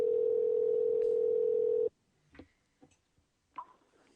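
Outgoing telephone call ringing on the line: one steady tone lasting nearly two seconds, then it cuts off into near silence broken by a few faint clicks.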